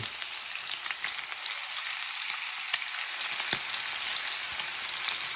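Chicken thighs without flour frying skin side down in a pan give a steady, bright sizzle throughout, close and fairly loud, with a couple of small pops and no voices.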